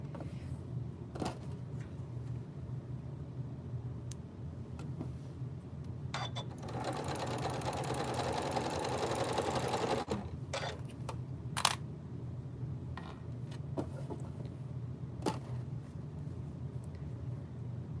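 A sewing machine stitches pieces of fabric together in steady runs, with a denser burst in the middle and a few sharp clicks and taps between the stretches of stitching.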